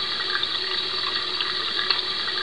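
A running water tap in the 1999 Blue's Clues Windows game, a continuous close splashing hiss at a steady level with small bright droplet flickers, no voices present.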